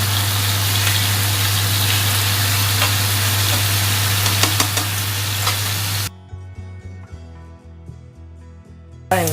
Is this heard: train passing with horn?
no